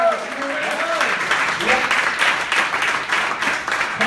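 Audience applause fills a comedy club at Broadway Comedy Club, a dense, steady roar of clapping with a few cheers and voices mixed in, lasting throughout.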